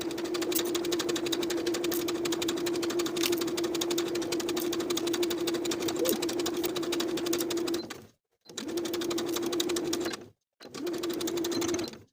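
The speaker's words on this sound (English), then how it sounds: "we're going to sew this bias tape in place along the outermost crease" A sewing machine stitches bias tape onto a dress with a steady, close motor hum. It stops briefly twice near the end before starting up again.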